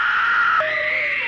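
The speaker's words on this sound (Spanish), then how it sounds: "van a escuchar muchos gritos." A loud, sustained scream from a horror film, one drawn-out shrieking cry that shifts and wavers in pitch partway through.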